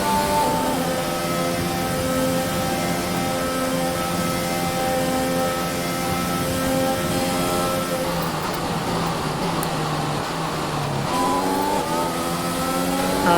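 An F1 race car in the F1 2021 video game screams through the gears on a French circuit, a loud, continuous engine whine rising and dropping with shifts and braking into a chicane.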